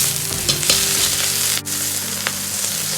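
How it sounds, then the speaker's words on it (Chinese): Green onions sizzle steadily in a hot pan, a continuous crackling hiss with a few soft scrapes of a utensil, close and fairly loud. "煎出香味，煎至一面微黄再翻面，稍微再煎一下"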